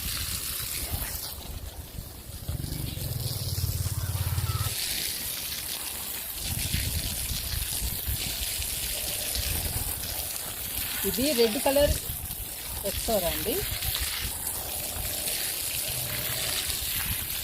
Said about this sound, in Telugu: ఇలా పెట్టాలండి పాదికి వాటరు.